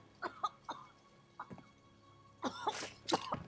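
Several harsh coughs come in short bursts, a few isolated ones first and then a rougher cluster of hacking coughs near the end, fairly close.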